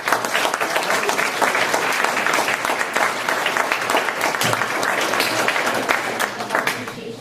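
Sustained applause from an audience at the close of a campus talk, dense steady clapping throughout, fairly close and loud, with no clear speech over it.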